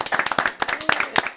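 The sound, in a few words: audience clapping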